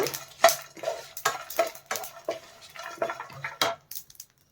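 Ingredients for a drumstick fry roasting in a pan, stirred with a utensil that scrapes and clinks in an uneven rhythm of close, distinct strokes over a faint sizzle, ending in quiet.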